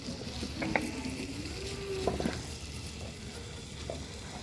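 Vegetables frying and sizzling in a pot in a Nepali village kitchen, stirred now and then, a steady crackling hiss with light scraping clinks, close and alone.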